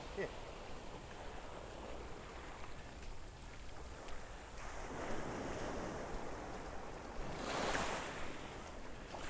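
Ocean surf washes steadily onto a Gulf beach at Delnor-Wiggins in the morning, with a continuous roar of breaking waves mixed with wind buffeting the microphone and a swell of louder surf near the end.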